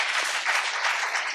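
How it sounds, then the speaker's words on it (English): Audience applause at a leadership event at a business school, a dense, steady wash of many hands clapping together, sustained and fairly loud throughout with no voices over it. "Big round of applause, everyone, please."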